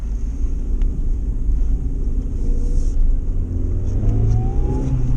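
A car engine rumbles steadily close by, idling with a low, slightly uneven throb caused by an evaporative emissions fault, then rises in pitch as it revs.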